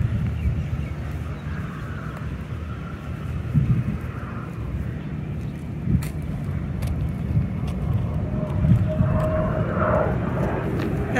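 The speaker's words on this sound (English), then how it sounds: "F-18 Hornet. There's two of them going by." Two F-18 Hornet fighter jets pass overhead near Pearl Harbor, Hawaii, giving a steady, broad engine roar that swells slightly midway and again near the end, heard from some distance against outdoor background noise.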